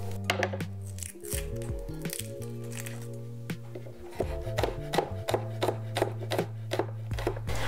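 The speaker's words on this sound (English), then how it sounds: "And then you also want to peel and slice the garlic." Garlic being peeled and then sliced with a knife on a board, a few soft rubbing and squishing sounds followed by a run of quick, crisp chopping taps, close with nothing else.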